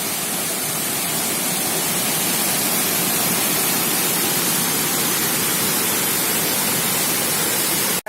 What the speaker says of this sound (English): As you can see, the beautiful waterfall of Trivandrum after Meenmutti, we can say.